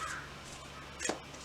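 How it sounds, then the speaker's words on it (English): A crow caws once outdoors, a single harsh call at moderate distance over a quiet background hiss. "hearing the crows outside,"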